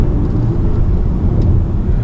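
A 2023 BMW iX electric SUV driving on Ortega Highway, a canyon road, heard from inside as a steady low road and tire rumble with loud wind and cabin noise and no talking.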